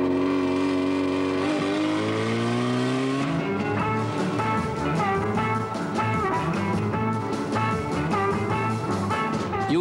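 A rally car driven hard and fast, its engine roaring loud and close and climbing in pitch as it accelerates, with a dense busy roar throughout and no talk.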